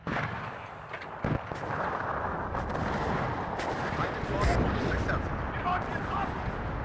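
Artillery fire in the WARNO war strategy game, a steady wash of distant rumbling booms and crackling gunfire running throughout, with a few sharper shots standing out.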